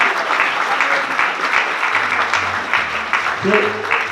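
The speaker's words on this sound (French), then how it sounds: "Applaudissements." An audience claps in warm, sustained applause at a French stage event, a continuous close patter of many hands with a few voices rising briefly near the end.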